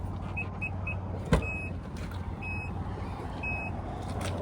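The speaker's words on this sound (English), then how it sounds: "backup sensors." Backup sensor beeps from a white pearl 2013 Infiniti JX SUV, a few short high tones repeating in small spaced groups over a steady low idle hum, with one sharp click partway through.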